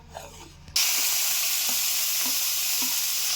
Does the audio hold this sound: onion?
yes